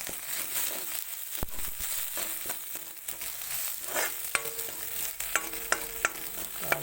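Taro leaves with turmeric being stirred in a frying pan, close-up scraping and soft sizzling with a run of crisp spatula taps against the pan near the end, no speech.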